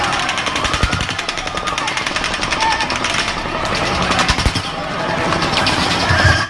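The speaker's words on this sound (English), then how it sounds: "That sound is when a bullet came close, that singing sound." Rapid bursts of automatic gunfire crackle continuously during the Las Vegas mass shooting at Mandalay Bay, with sharp repeated cracks and snaps of bullets passing close overhead, dense and unbroken throughout.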